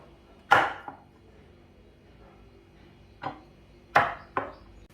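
Ingredients for boeuf bourguignon being crushed in a kitchen: four sharp, close thuds spread irregularly over a few seconds, two of them in quick pairs, with quiet pauses between.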